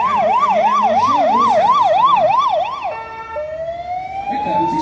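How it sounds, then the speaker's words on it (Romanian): A fire engine siren wails loud and near in a fast repeating up-down pattern, then shifts to a slow rising tone, at the opening of the Timișoara Christmas market. "pompierii sper că nu au venit pentru evenimentul nostru"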